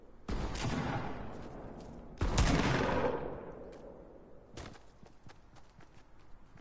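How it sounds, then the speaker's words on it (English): Gunfire rings out from behind the player in a Fortnite match, coming as three separate bursts of sharp shots with echoing tails and quiet gaps between them. "Someone shooting behind you."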